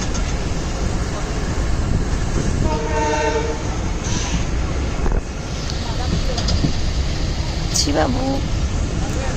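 A passenger train runs on the rails with a steady heavy rumble and wind buffeting the microphone, a horn sounding briefly partway through, and a voice heard faintly near the end.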